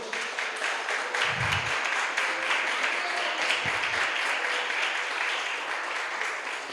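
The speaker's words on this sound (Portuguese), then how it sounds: "Você pode aplaudir o Senhor?" A church congregation applauds during a sermon, a full, continuous roar of many hands clapping that holds steady for several seconds, with a couple of brief low thumps and murmurs beneath it.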